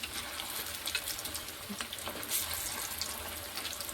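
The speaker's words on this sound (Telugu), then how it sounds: "ఆయిల్ హీట్ ఎక్కిందంటే ఒక్కొక్కటిగా వేసేస్తున్నాను. అన్నీ ఒకసారి ఫ్రై చేసేసుకుందాం." Cashew chicken pakoda deep frying in hot oil, a steady close sizzle and crackle with bubbling pops, continuous and fairly loud with no talking.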